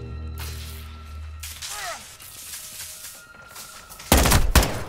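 Gunfire in the video game Call of Duty: Modern Warfare II comes as a sudden, loud burst of rapid shots near the end, after ambient battlefield rumble and swishing effects.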